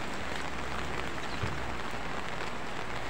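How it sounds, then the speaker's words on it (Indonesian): Steady rain falls around someone walking at night to a supermarket in Brunei, a dense, even hiss of drops on surfaces with no talking. "Dan kita hujan-hujanan guys."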